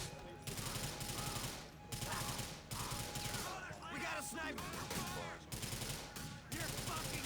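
Rapid automatic gunfire in Grand Theft Auto: The Lost and Damned, bursts of rattling shots repeating in quick succession with short gaps between volleys, fairly faint and steady throughout.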